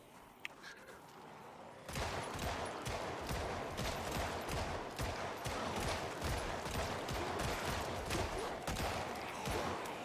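M14 rifle fire in a video game: after a quiet opening, a long run of rapid, evenly spaced shots rings out loud and close for most of the clip.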